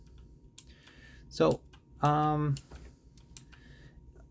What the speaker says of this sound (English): The blue ones have this also tactile sensation, but also it has a audible feedback that you can hear right now.